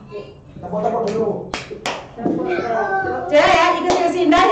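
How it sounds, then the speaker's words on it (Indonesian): Children in a virtual second-grade class clap their hands along with a teacher, a run of sharp, close claps with overlapping irregular rhythms, mixed with children's voices and talk. "Tepuk-tepuk dulu."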